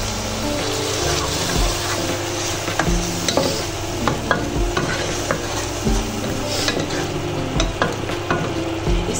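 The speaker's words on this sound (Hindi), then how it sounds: "इसकी अब हमने थोड़ी सी भुनाई करनी है।" Red chilli and salt are stir-fried in a pot for potato rice, with constant sizzling under repeated scraping of a spoon against the metal, close and busy with no talk.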